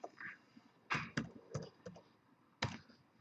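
Keys on a computer keyboard are tapped in a few separate bursts, clicking close and fairly quiet with short pauses between strokes, no voices.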